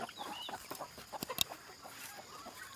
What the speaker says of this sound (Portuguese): Agora, galinheiro.